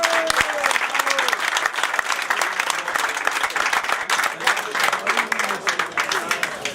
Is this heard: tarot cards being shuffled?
no